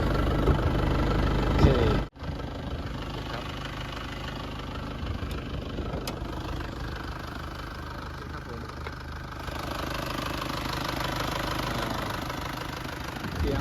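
A 1996 Isuzu TFR SLX pickup engine idles with a steady, rough mechanical drone and faint knocking, close and continuous, after a brief sharp cut near the start.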